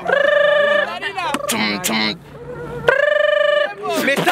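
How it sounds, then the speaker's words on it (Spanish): A cell phone rings loudly in repeated bursts, its electronic tone interleaved with other sharp sounds and followed by another ring burst. "Me está sonando el celular."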